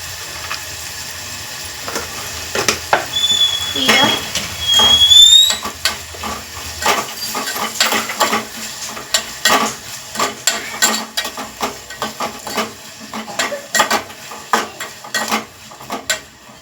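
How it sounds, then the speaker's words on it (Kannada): Onions frying in a pan with salt, stirred until they brown: a spoon scrapes and clinks against the pan in quick irregular strokes over a soft sizzle, close and loud. "ಈಗ ಈರುಳ್ಳಿ ಎಲ್ಲ ಕೆಂಪಾಗೋವರೆಗೂ ಹುರ್ಕೋಬೇಕು"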